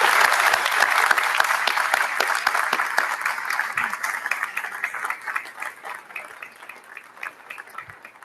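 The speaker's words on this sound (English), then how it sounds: "Would you please join me in a round of applause in honor of the family's sacrifice?" An audience at a US Army Corps of Engineers Norfolk District change of command ceremony applauds steadily, a dense round of clapping that holds strong for several seconds and then gradually thins and fades.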